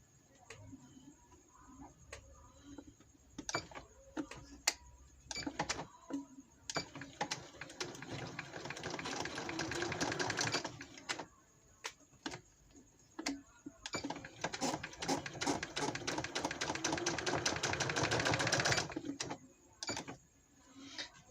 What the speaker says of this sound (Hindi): ऐसे ही करते जाएंगे जी, सिलाई लगाते जाएंगे